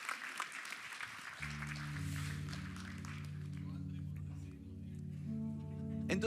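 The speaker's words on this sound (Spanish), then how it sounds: "Denle un fuerte aplauso a los actores." Applause from a church congregation for the actors after a sermon skit, starting loud with voices mixed in, then giving way to sustained organ or keyboard chords underneath.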